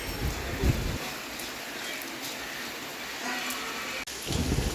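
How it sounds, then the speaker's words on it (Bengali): Rain falling steadily as a broad hiss, with a low rumble and a few louder bursts at the start and end. "এদিকে বৃষ্টি হচ্ছে"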